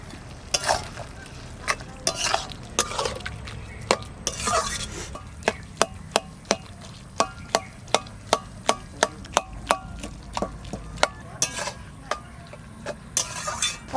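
Prawns with cumin and coriander frying in a pan for bottle gourd curry, a soft steady sizzle beneath a run of sharp, regular clacks and scrapes from a spoon stirring against the pan, close and continuous with no talk.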